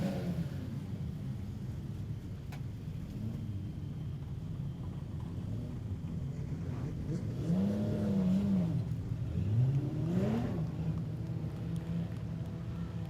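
Modified sedan race car rumbling around Kingaroy Speedway on a lap of honour, a steady close engine drone that swells with a couple of rising revs near the end, no talking.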